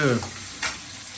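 Onions drop into a hot tadka for saag. A short burst of sizzle and stirring opens the clip, then a brief second flare follows before it settles into a quiet, faint frying hiss.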